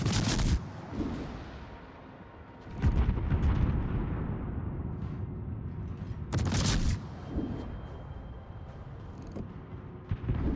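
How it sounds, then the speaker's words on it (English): A heavy barrage of shells from naval guns pounds toward a battleship in a naval combat video game, with loud booming blasts at the start, near the middle and again later over a sustained rumbling roar. "He's just seeing this solid rainbow of shells coming at him."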